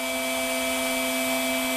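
A Drill Doctor 500X sharpener grinds a drill bit, giving a steady, loud, high-pitched motor whine with a continuous grinding hiss and no pauses or talk.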